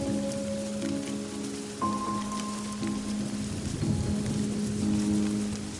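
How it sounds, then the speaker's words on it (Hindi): Steady rain patters on surfaces, a continuous hiss of drops with a faint tonal hum underneath and no voices. "अरे करण, तुम बारिश में क्या कर रहे हो?"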